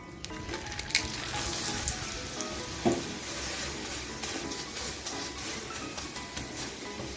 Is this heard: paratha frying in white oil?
yes